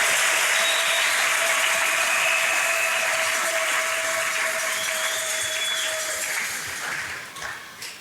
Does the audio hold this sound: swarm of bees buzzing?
no